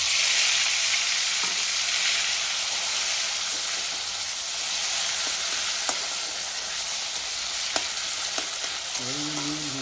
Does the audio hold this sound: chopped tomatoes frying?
yes